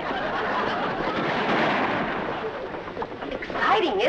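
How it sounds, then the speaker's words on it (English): A burst of gunfire during a chase in a classic comedy film scene, heard as a dense, rumbling clatter of shots under a noisy soundtrack, followed near the end by a brief excited voice. "They shooting at us."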